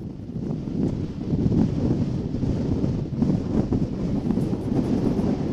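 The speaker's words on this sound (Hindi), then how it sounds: "हवा का ठहरना, टिक पाना बड़ा मुश्किल हो रहा है।" Strong cyclone wind roars at the coast during Cyclone Yaas on the Bengal–Odisha shore, a loud, continuous gusting buffet pounding the microphone with no pauses for the full stretch.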